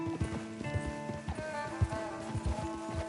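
Horse hooves clip-clop along a trail in the video game Red Dead Redemption 2, a steady close rhythm of hoofbeats with a faint snort and mostly no talk.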